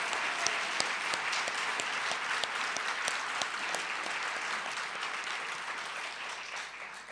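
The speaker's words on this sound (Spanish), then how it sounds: "te aplaudimos a ti, Señor." A church congregation applauds during a Spanish-language Sunday service, a dense, even patter of many hands clapping that holds steady at moderate loudness throughout.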